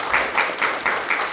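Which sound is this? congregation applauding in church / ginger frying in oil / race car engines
congregation applauding in church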